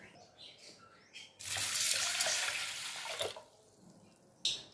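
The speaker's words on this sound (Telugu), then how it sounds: "ఒక గ్లాసు కందిపప్పు వేస్తున్నాను. ఇవి శుభ్రంగా కడుక్కోవాలి." Toor dal being washed in water in a home kitchen: a steady splashing, running-water rush for a few seconds, fading to quiet with faint birdsong behind.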